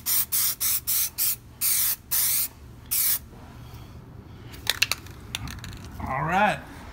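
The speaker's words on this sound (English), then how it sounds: "that's gonna be the first coats there. We're gonna do several coats." Plasti Dip is sprayed onto the emblems of an S550 5.0 Mustang in a garage, in a series of short close aerosol bursts. A quieter stretch follows with faint handling clicks and a brief murmuring voice.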